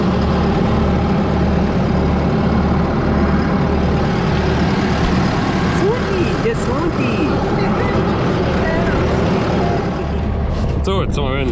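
Tractor engine running during hay harvest, a loud steady low rumble with constant drone throughout, heard close up, with a brief faint higher sound near the end.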